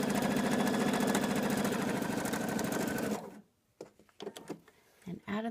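A sewing machine stitches braid strips in a loud, rapid, steady whir for about three seconds, then stops, followed by quieter handling noises and talk.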